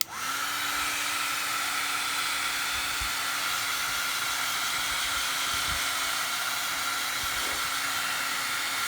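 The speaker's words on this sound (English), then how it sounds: "now I am going to see if we can dry that real quick" A heat tool or dryer blows on a junk journal tag painted with acrylic, producing a loud, steady whooshing roar with a faint whine that starts abruptly and holds for the whole stretch.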